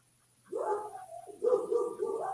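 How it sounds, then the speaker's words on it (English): Several dogs bark in two loud bursts, close to the microphone, with a brief pause between them and no talk over them. "You hear my dogs? They're so loud."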